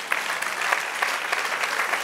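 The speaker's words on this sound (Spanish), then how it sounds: "Denle un aplauso, Señor." A church congregation breaks into sustained applause during a sermon, steady dense clapping from a large crowd filling the room without pause.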